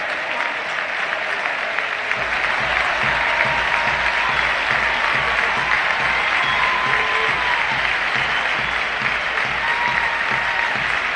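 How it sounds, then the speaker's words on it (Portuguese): Large Argentina football crowd at the Monumental de Núñez applauding Lionel Messi during a qualifier against Ecuador, a dense, loud, sustained roar of clapping that continues steadily throughout. "Ouça os aplausos da seleção da Argentina, da torcida da seleção da Argentina no Monumental de Núñez"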